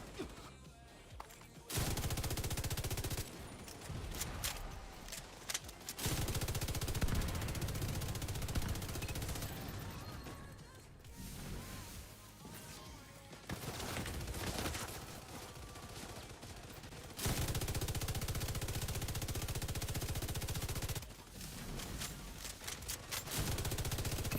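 A light machine gun fires in The Division 2, sustained loud bursts of automatic gunfire broken by short pauses over roughly twenty seconds of combat.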